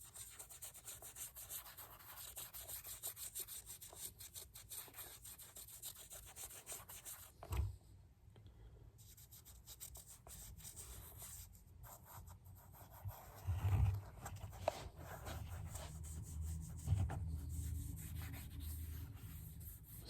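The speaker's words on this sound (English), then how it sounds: "After you trim it, you've got to basically hand sand it to smooth out the edges." Hand sanding the trimmed edges of a Ferragamo shoe sole makes faint, steady rapid rasping strokes, a quiet close-up scratchy rubbing that pauses briefly midway then resumes slightly louder, with no talk.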